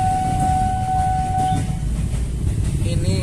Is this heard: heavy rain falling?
no